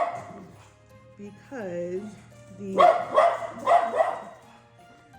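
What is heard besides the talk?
dog barking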